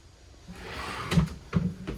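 A drawer on a 2021 MJM Yachts 43z outboard boat slides open with a rumbling glide, followed by two solid knocks as it shuts, close by.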